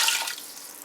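Low sodium beef broth pours into a pressure cooker, a steady splashing liquid stream that starts strongest and eases off slightly over under a second, close and alone.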